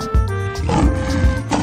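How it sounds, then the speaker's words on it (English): A lion roars in a children's animated animal racing cartoon, a loud, low growling roar repeated in two or three surges across a short burst, with a steady music bed running underneath. "Lion."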